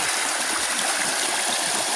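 A waterfall at a steady, moderate flow, its broad rushing wash constant and close with no breaks.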